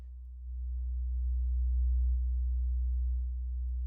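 A low, steady synthesized hum holds at one pitch, swelling slightly in volume then easing back, with nothing else around it.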